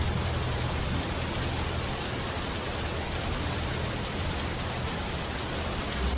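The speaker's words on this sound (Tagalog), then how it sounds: "bumuhos ang malakas na ulan." Heavy rain pouring down in a steady, dense, unbroken hiss with a low rumbling undertone, loud and constant with no voices.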